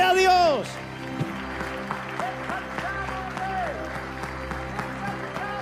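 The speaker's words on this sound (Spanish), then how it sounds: "Dale un aplauso grande al Señor en este primer mensaje del año." Congregation applause in a church after a New Year's first sermon, a broad clapping wash that runs steadily beneath loud voices and shouts, with a preacher's raised voice over it at the start.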